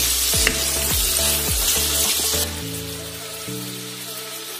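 Fresh shrimp fry loudly in a pan with a constant close sizzle. Quick scraping stirs clatter through the first half, and the frying keeps going alone after that.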